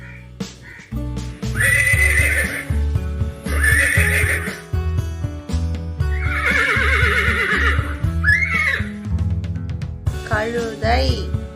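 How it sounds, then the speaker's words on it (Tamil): A horse gives repeated loud whinnies and neighs in long bursts, with faint clip-clop of hooves over steady background music. "குதிரை"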